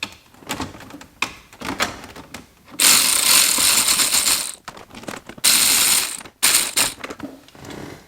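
A ratchet drives T15 screws into a plastic-tabbed part on a C5 Corvette, heard as bursts of rapid clicking close up, separated by short pauses and quieter handling.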